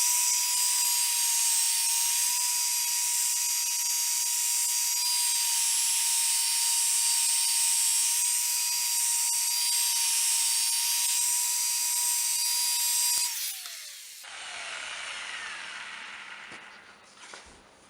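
A small 3-inch polisher buffing sanding marks from Range Rover Sport car paint whirs at a steady high pitch for a long stretch, then winds down and stops, leaving quieter background noise.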